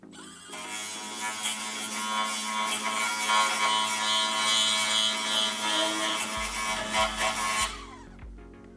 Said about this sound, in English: Put our new flap wheel on our Milwaukee.